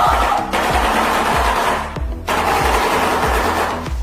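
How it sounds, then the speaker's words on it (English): A shoebill gives its call as loud, rapid machine-gun-like clattering in two long bursts, with a brief pause just before the two-second mark. "This is a shoebill."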